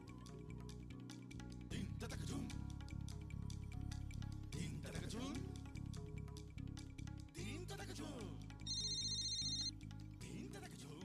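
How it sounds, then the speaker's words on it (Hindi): A telephone rings with a repeated electronic tone over loud, dramatic background music. "पता नहीं शायद टिवाना साहब कर रहे हैं फोन।"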